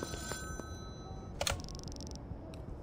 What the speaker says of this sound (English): Oh, payphone's ringing again.